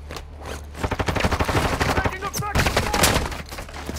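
Rapid bursts of automatic gunfire crackle through a Warzone 2.0 firefight, dense repeated shots from about one second onward, loud and close, with voices talking over the shooting.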